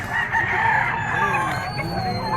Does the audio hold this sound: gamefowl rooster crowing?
yes